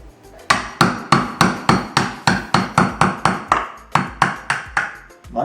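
About fifteen sharp metallic hammer blows land in an even, quick rhythm on a screwdriver driven into a coconut, each ringing briefly before the next strike, close and loud.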